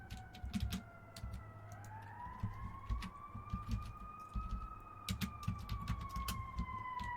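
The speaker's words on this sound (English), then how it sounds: "Yeah, you're hearing sirens." A distant emergency vehicle siren wails with a slow rising and falling tone, faint behind the nearby clatter of a computer keyboard being typed on.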